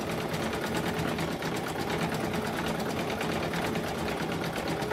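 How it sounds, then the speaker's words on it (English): An embroidery sewing machine runs steadily while stitching in-the-hoop snowballs, giving a close, loud, continuous rapid needle chatter with a fine rhythmic pulse that holds unbroken throughout. "my machine cuts the stitches so I don't have to go and do it manually"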